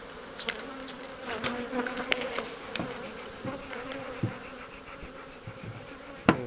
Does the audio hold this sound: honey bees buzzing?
yes